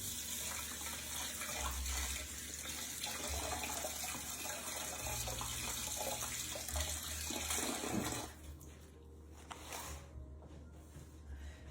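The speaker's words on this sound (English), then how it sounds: "Let me give my hands a little rinse" Steady broadband rush of tap water running into a sink, with splashing from hands being rinsed, cutting off near the end to a quieter room.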